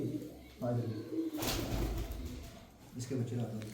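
Pigeons at a breeder's loft in R.S. Pura coo softly in short repeated bursts, close by, with a person talking over them and a brief rustling thump in the middle.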